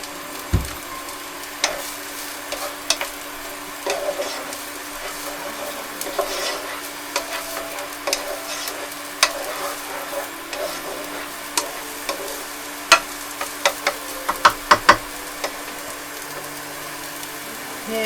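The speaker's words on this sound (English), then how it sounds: "I got some 1 onion and 2 cloves of garlic in here, and I'm just going to saute that until it softens a bit" One onion and two garlic cloves sautéing in oil, a continuous light sizzle with frequent sharp wooden clicks and scrapes of stirring against the pan, steady and close.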